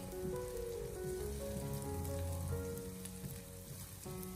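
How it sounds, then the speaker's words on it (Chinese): Minced garlic and small hot chilies sizzle over low heat in a wok, a steady close crackling hiss with faint stirring, no voices. "下切好的蒜末和小米辣，用小火给它翻炒一小会，把蒜末炒出香味"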